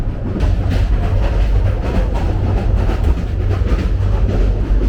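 Steady loud rumble of the Burimari Express running on meter-gauge track, heard from an AC berth, with continuous rattling and jolting clatter throughout, no voices.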